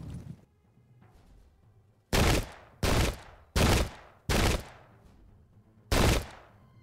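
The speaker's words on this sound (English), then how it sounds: "I do love the sound of the musket and cannon fire" Musket and cannon volleys in the 17th-century warfare game Pike and Shot come as six sharp, loud blasts at roughly regular intervals, each with a short decaying tail, over a quiet low background.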